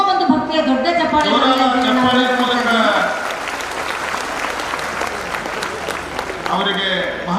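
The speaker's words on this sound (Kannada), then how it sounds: "ನಿಮ್ಮ ಒಂದು ಭಕ್ತಿಯ ದೊಡ್ಡ ಚಪ್ಪಾಳೆ" Audience applause at an award presentation during a Dasara darbar in Basavakalyan, Bidar, rises from a crowd of many hands and holds as a dense, sustained roar. A voice over a loudspeaker is heard at the start.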